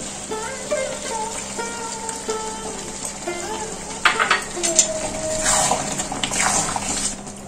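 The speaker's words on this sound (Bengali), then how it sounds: "এই মাটনের মধ্যে আমি দেব 1 বাটি গরম জল।" Hot water poured from a bowl into sizzling mutton curry in a pan, a steady hiss and bubbling rising to louder splashy surges midway, with occasional clinks of utensils.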